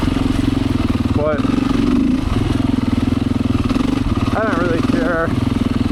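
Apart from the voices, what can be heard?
Beta 500 motorcycle engine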